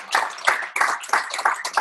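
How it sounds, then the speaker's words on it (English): Audience clapping at a business retreat, with bursts of hand claps landing in an uneven rhythm. The applause is moderately loud and close, with no talking over it. "Let's go ahead and give them a round of applause right now and some acknowledgement there."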